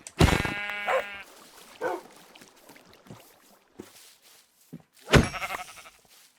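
Several Minecraft sheep bleats ring out loudly in short bursts, the first long and wavering, with quieter thuds and clicks between them.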